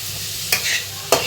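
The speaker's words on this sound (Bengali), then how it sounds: "যে ভাজা হয়ে যাচ্ছে পনির" Paneer cubes fry in a pan alongside green chilies, carrot and a pinch of salt, giving a steady hiss broken by two brief stirring scrapes about half a second apart.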